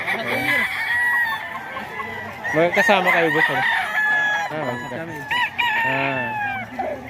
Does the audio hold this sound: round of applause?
no